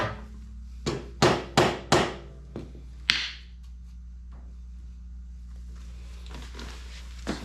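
Sharp taps from installing Benlari highway pegs on a motorcycle: five quick knocks in a cluster, then two single taps, fairly close, with a low steady hum beneath and faint rustling afterward.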